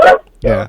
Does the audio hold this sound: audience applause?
no